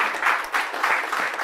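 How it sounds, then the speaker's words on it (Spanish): An audience applauds guests at the close of an international academic colloquium, a dense, steady burst of many hands clapping in a hall. "Un aplauso para nuestros invitados."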